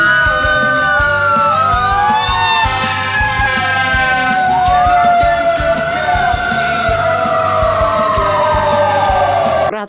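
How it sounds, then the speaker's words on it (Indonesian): A red fire engine's siren wails loudly and continuously up close, its rising and falling tones sweeping back and forth, with background noise beneath. "ada mobil pemadam kebakaran"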